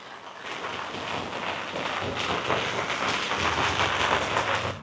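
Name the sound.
rain falling in Mumbai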